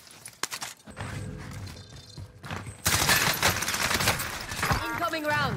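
Gunfire in Call of Duty Warzone, with sharp shots and bursts crowding a busy battle mix, growing denser and louder in the second half while voices talk over the action.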